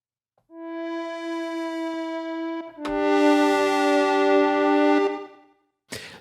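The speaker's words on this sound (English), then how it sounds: "so you can hear with the regen button, you're changing every parameter" Randomized patch on a Baby Audio BA-1 synthesizer, every parameter changed: a long bright sustained tone with echo, then a second richer swelling note, ending in a short noisy burst, played alone without speech.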